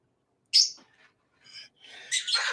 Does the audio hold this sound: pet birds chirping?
yes